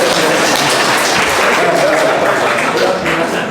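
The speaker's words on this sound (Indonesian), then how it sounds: "Kita tepuk tangan dulu untuk Daniel." Audience applause fills a church during a jubilee thanksgiving mass, a steady dense wash of clapping from many hands that holds evenly for several seconds without pause.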